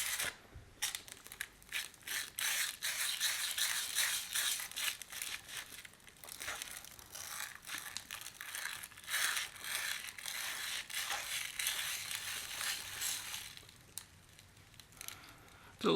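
Glass muller grinding manganese violet pigment paste on a slab, a continuous gritty scraping and crunching in uneven strokes, close and fairly loud, with short pauses between passes.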